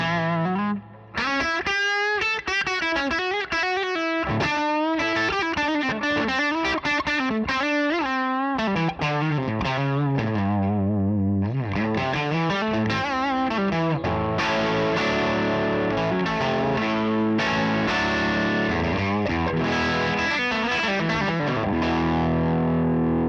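An electric guitar plays through a Harmony H650 amp turned down to 1 watt through an attenuator, giving a slightly gritty edge-of-breakup tone as chords and single notes ring out with sustain, alone and up close.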